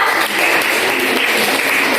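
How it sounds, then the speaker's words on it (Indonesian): Students in a classroom clap for a group, a dense burst of applause that stays loud and steady for a couple of seconds. "Wow, tepuk tangan ke kelompok 2."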